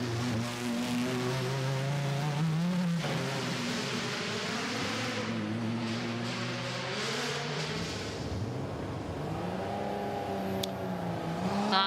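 A Kalmar rally car driving a loose, stony rally stage at the Goodwood Festival of Speed, its engine droning loudly and steadily with rising and falling pitch as it accelerates and shifts.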